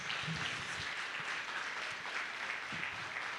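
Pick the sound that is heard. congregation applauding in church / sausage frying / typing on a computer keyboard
congregation applauding in church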